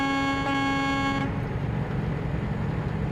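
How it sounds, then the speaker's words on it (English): A vehicle horn blares in a sustained tonal honk for over a second, then cuts off, leaving a steady low rumble of traffic underneath with no voices. "Good old few honks."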